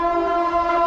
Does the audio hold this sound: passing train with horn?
yes